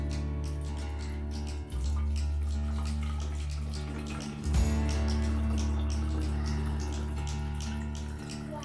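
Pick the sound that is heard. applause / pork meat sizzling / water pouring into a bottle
water pouring into a bottle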